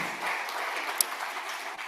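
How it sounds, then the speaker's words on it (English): Applause from a conference audience at a closing ceremony, a steady dense patter of many hands held at moderate level for the whole stretch, with one sharp tap standing out midway. "a hearty round of applause for all these really good folks"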